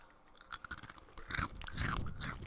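Cool Ranch Doritos are crunched and chewed close to the microphone, with irregular crisp bites followed by denser grinding chews that grow louder toward the end.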